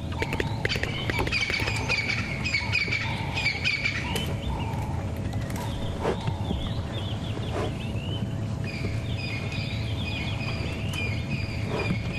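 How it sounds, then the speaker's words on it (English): Among outdoor birdsong and insect buzz, a Stierling's wren-warbler repeats a dry ticking call at a steady rhythm, moderately close. "You might be able to hear that Stearling's wren warbler going tick"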